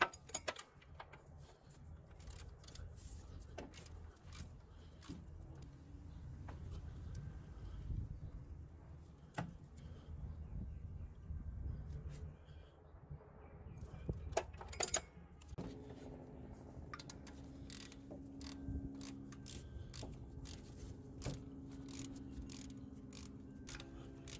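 A ratchet tightens alternator bolts on a 2001-2005 Honda Civic with quick clicking bursts and scattered metallic ticks, heard close with quiet pauses between passes and no talk.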